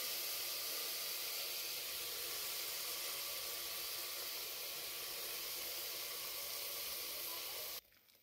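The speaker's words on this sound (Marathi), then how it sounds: "याला तुपामध्ये थोडंसं तडकू द्यायचं" Cumin seeds crackle in hot ghee for jeera rice, with basmati rice added to the pan, giving a steady close hiss and sizzle that cuts off sharply near the end.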